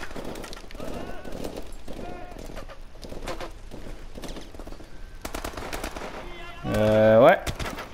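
Gunfire in Call of Duty: Advanced Warfare, a string of short, evenly spaced automatic bursts at moderate volume, with a person talking over them and a louder tonal game sound near the end.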